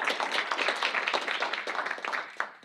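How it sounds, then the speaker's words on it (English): An audience applauds sponsors at a baseball opening-day event with a burst of scattered, overlapping claps that stay steady and moderately close before tapering off. "Give them a round of applause."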